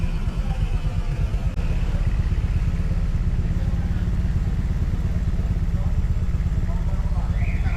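A motorcycle engine runs steadily nearby, a low rumbling idle with faint clatter continuing throughout.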